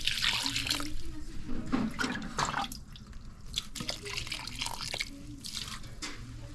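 Water poured gently from a cup trickles and splashes onto garden soil around newly planted flowers, soaking in with irregular close drips and gurgles; faint voices murmur in the background.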